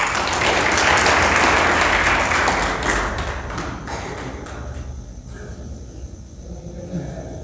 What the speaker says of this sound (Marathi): तुम्ही एकदा जोरदार टाळ्या वाजवा